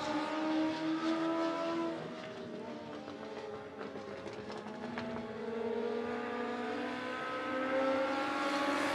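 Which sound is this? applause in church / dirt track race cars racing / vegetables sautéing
dirt track race cars racing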